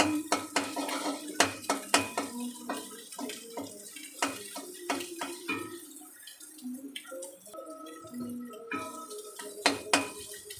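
An egg is stirred and fried with a spatula in a pan while cooking ash gourd, giving repeated sharp metal scrapes and clinks in uneven bursts, close by, with a quieter sizzling stretch in the middle and no talking.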